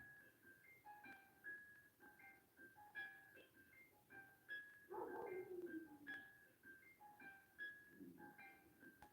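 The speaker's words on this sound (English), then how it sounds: "Dogs are barking." Dogs bark repeatedly in the distance, faint short yips and bow-wows in an irregular pattern with a brief low whimper partway through, and no one speaks.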